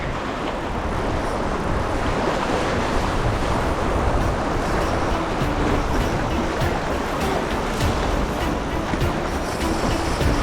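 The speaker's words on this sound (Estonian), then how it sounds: "Laine on päris korralik." Sea waves roll and break steadily along the shore during sea trout fishing, a continuous loud rushing wash mixed with wind buffeting the microphone.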